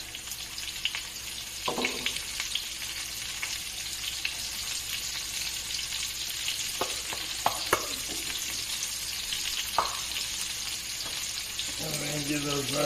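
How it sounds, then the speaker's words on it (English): Mushrooms and shallots fry in hot oil with a steady, close sizzle throughout, punctuated by occasional clinks and scrapes of stirring near the end, with no talking. "And then you can add your mushrooms to your oil."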